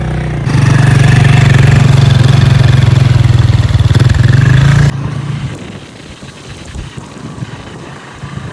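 A motorcycle engine labors loudly and steadily close by while climbing a mountain road near Karatu in Africa, then drops suddenly to a quieter, rougher idle-like rumble.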